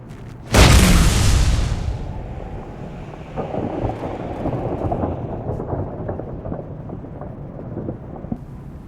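Heavy brute weapon in the Halo video game firing, one sharp loud explosive boom followed by a long rumbling decay and scattered crackling debris, with no talking.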